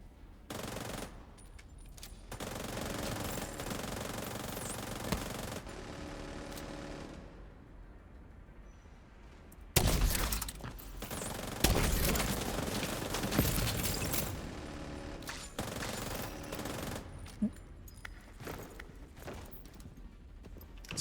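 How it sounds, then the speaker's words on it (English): Bursts of video game gunfire crackle in rapid automatic volleys, with quieter gaps in between and a louder, denser stretch of shots in the second half, with no talking. "Was that gunfire?"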